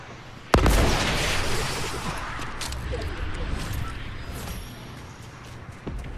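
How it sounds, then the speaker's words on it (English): Rocket launches and explosions in a battle royale video game: a sharp loud blast at the start, followed by a sustained rumbling, crackling barrage of booms and pops that slowly fades. "I'm shooting rockets too."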